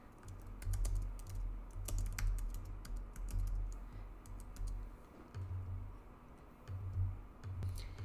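Computer keyboard typing: an irregular run of light key clicks and taps, fairly close and steady, with short pauses, continuing alone for about eight seconds.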